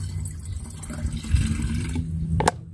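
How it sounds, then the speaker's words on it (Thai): Water poured into a bottle holding three litres of plain water to mix a homemade liquid plant fertiliser, a steady gurgling fill that runs continuously and cuts off sharply near the end. "ให้คุณผู้ชมนะคะเติมลงไปในน้ำเปล่า3ลิตรเลยค่ะ"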